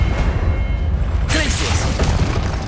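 Spell-casting effects in the Hogwarts Legacy video game, with a sudden bright burst partway through followed by sustained magical whooshing and crackle over a low rumbling bed, fairly loud throughout; a voice may call out spell names.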